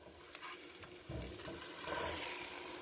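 Ripe plantain slices sizzling in a frying pan, with a couple of soft clatters as pieces are flipped over, the steady frying hiss rising slightly afterward.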